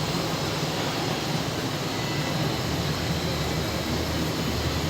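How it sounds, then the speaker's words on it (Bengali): A passenger train runs steadily after crossing a bridge on the Dhaka to Kushtia route, a continuous broadband rumble and hiss that stays level throughout as it begins to slow. "তো আমাদের ট্রেনটা এখন একটু স্লো করছে ব্রিজ থেকে নামার পরে"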